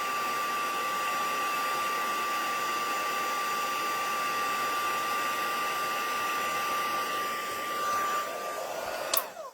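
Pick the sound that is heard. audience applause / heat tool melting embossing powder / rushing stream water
heat tool melting embossing powder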